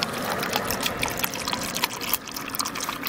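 Engine coolant poured from a gallon jug into a Toyota Prius during a refill and bleed, a close, continuous gurgling stream of liquid with small splashes.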